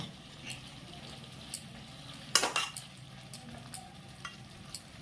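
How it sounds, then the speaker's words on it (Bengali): Potatoes and cauliflower stir-fried in a pan, with a quiet sizzle under scattered utensil scrapes and clinks and one louder clatter of spatula against the pan. "মিনিট দুয়েক আলু আর ফুলকপিটাকে একটু কষে নেব।"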